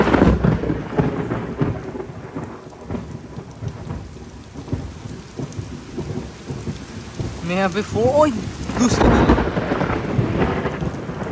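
Steady heavy rain pours with low rolling thunder in a wet outdoor setting during a monsoon downpour, with someone speaking briefly over the storm noise.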